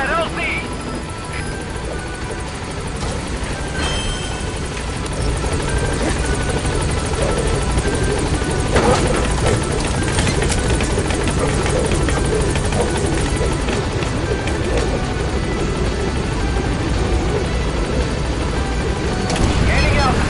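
The Pequod helicopter from Metal Gear Solid V arriving at a landing zone, a loud continuous rotor thump and engine roar throughout, with radio voices talking over it.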